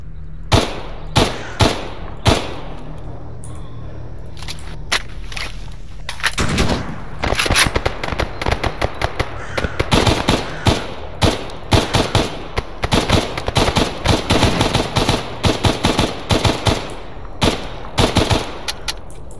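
Firefight in the game Stalker Anomaly, with single gunshots at first and then dense automatic bursts, loud and close and running almost without a break.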